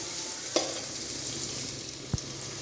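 Steady frying sizzle of small onions in a pan, a continuous hiss with a couple of brief clinks or stirs, no voices.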